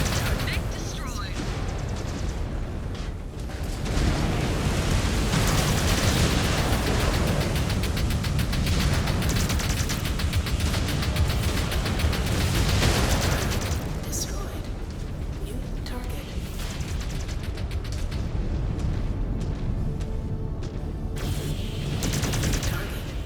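A mech explodes in the MechWarrior 5: Clans video game amid a dense, loud, continuous roar of weapons fire and blasts, with voice callouts heard over the battle.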